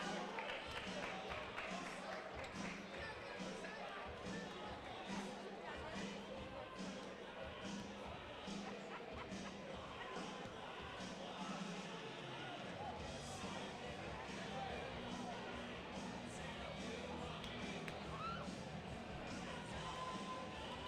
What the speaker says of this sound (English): Good crowd here at North Quincy High School